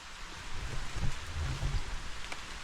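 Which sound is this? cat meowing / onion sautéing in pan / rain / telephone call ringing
rain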